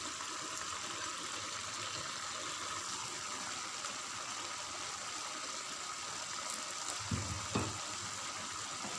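Capcay vegetables of carrot, cauliflower, napa cabbage and mustard greens frying in a pan, a steady close sizzle with a brief scraping stir near the end.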